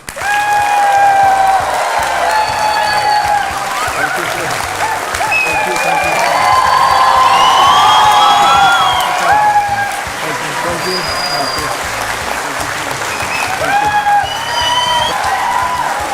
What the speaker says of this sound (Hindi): तो ये तालियां बजती रहें।